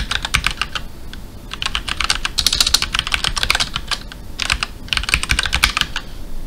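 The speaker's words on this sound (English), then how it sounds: "If I could type it." Typing on a computer keyboard produces rapid, close clattering keystrokes in dense bursts with short pauses, loud and alone without talk.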